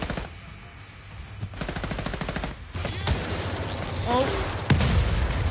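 Rapid automatic gunfire and blaster shots from the video game Star Wars Battlefront 2, loud and continuous with dense bursts and booms, a voice briefly talking over the shooting.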